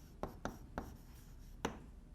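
Chalk or marker writing on a board during a lecture, heard as four short, faint tapping strokes spaced unevenly in an otherwise quiet room.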